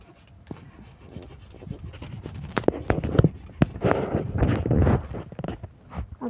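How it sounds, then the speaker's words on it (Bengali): Sandalwood is ground into paste on a stone for a Thursday Lakshmi puja, making close, rough rasping strokes in a loose repeating rhythm, with no voices. "চন্দন বেটে নিই।"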